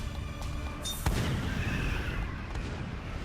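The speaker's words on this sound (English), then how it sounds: "I am firing the artillery" Artillery fire in Attack on Titan 2 gives a sharp boom about a second in, then a dense rumbling wash of battle noise, with smaller bursts later under a steady background.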